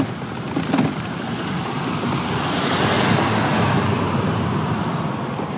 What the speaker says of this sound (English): That truck was freaking wailing down the road.